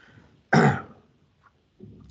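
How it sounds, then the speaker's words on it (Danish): One sharp, harsh cough comes from a man, close and loud, followed by quiet and a softer throat-clearing rumble at the end. "jeg skal lige dø af hoste"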